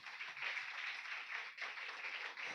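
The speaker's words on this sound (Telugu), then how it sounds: "చప్పట్లు కూడా దేవుని నామానికి." A church congregation at a Sunday service breaks into sustained applause, a steady wash of many hands clapping, fairly faint and distant, with a slight dip partway through.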